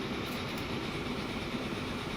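Trains rolling through a Transport Fever 2 rail network make a steady, faint, continuous rumble and hiss of wheels on track, even and unbroken with no voices.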